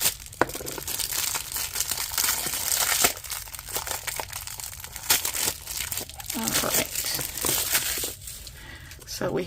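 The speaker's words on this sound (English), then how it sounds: "So let's pull all of these tapes out of here." Rolls of washi tape are pulled from crinkly plastic packaging out of a coffee-and-books subscription box, giving close, irregular crackling and rustling bursts while someone talks over them.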